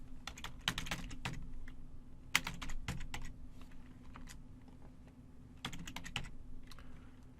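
Someone types in bursts on a computer keyboard, the clicks close and fairly quiet, with short pauses between runs of keys over a low steady hum.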